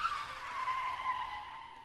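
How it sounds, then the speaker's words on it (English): Tires screech in a long, loud skid that slowly fades as the car slides to a stop, with no voices. "He hit the brakes, sending the car skidding to a halt."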